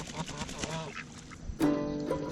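Several ducks quack close by in a farmyard kept with chickens, geese and cats, a run of nasal calls that ends in a louder, longer quack.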